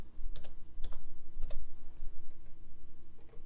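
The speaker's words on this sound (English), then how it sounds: "I type in male." Close computer keyboard typing as values are entered into a data entry form, a few quick bursts of key clicks over a low steady room hum.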